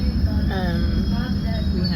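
A metro train running between stations gives a loud, steady rumble inside the carriage, with thin wheel squeals rising and falling over the constant low roar.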